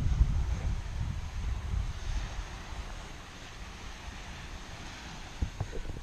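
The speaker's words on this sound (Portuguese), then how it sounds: "olha o barulho do vento aí" Wind gusts across a beach in Okinawa and rumbles low against the microphone. The gusts are fairly loud at the start and ease off toward the end, with a few brief knocks near the close.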